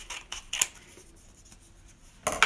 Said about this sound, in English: So when I cut the curve, basically, I'm just going to cut straight up.